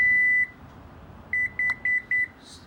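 Power liftgate on a 2017 Lexus RX350 Luxury Package: one long electronic beep, then after a pause three short, evenly spaced beeps as the height is saved, clear and close in a quiet setting.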